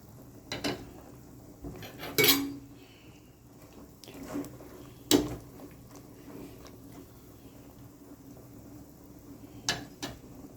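Shimeji mushrooms are added to a pot of spicy catfish soup in a home kitchen, with scattered clinks and knocks of utensils against the pot over quiet background.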